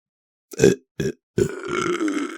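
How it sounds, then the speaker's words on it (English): A loud, close burp comes in a few short bursts, then one long drawn-out belch that rumbles on for about a second. "Excuse me for the burp, that one was kind of gross."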